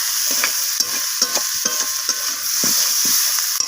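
Potatoes sautéed with spices and masala in an oily pan sizzle steadily at close range, while a spatula scrapes and stirs in a brisk, repeated rhythm.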